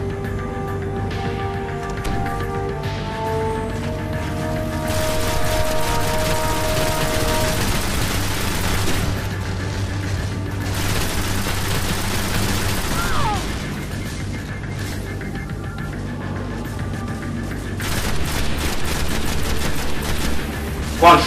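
Rapid bursts of automatic gunfire crackle in Destiny during a fight against the Nexus on Venus. Tight volleys come in waves over sustained tonal game music, with occasional voices.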